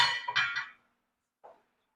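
Metal spoon clanks and scrapes around a pot of minestrone soup in a home kitchen, a short burst of clinking strokes followed by a pause and one faint knock.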